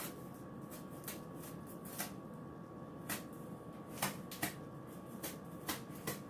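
Old cardboard being cut into a circle for a homemade cake plate, a series of close, crisp snips and scrapes at irregular intervals over a steady low background hum.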